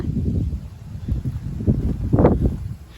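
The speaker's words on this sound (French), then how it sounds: "Par un moment, il y a des belles rafales." Gusty warm south-east wind of about 60 km/h buffets the microphone in uneven low rumbling bursts, swelling and fading, with one stronger gust near the end.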